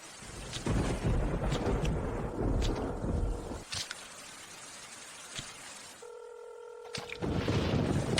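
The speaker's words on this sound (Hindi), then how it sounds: "उसे फिर से फोन करने की कोशिश करो" A telephone number is dialed, with a brief run of steady keypad tones heard over a heavy background of rain and rumbling thunder.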